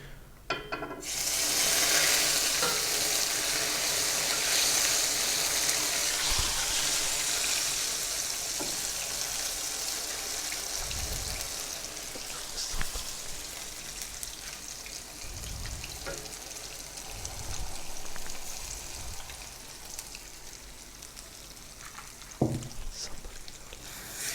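Semolina for makhandi halwa sizzles loudly in a hot pan, a broad steady frying hiss that slowly eases, with occasional scrapes and knocks of stirring near the end.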